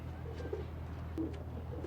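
Soft pigeon cooing in the film Vampire's Kiss, two brief low coos heard faintly over a steady low hum.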